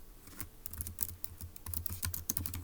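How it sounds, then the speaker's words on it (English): Rapid, uneven typing on a computer keyboard, the keys clicking close and clear in quick bursts with brief pauses and no talk over them. "So let's go ahead and type that up"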